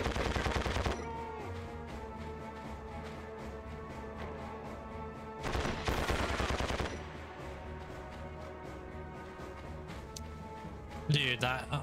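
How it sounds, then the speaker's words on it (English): Gunfire in the video game Conflict: Desert Storm, rapid bursts loud at the start and again around the middle, with steady game music and effects between and a final short burst at the end. "Dude, can you shoot straight, please?"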